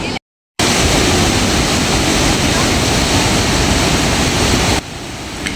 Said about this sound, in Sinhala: ලොකු සද්දයක් තියෙනවා මෙතන මේ වෝටර්ෆෝල් එකේ.